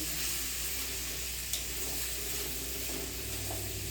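Pumpkin curry with coriander cooking in a pan, a steady hissing sizzle with a faint stir or two, close and fairly quiet throughout.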